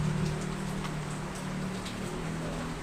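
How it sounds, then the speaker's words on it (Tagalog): Steady rain falls outdoors as a dense, even hiss of drops on surfaces, with a low background rumble and occasional faint taps, and no talking. "Sa labas tayo kasi umuulan eh."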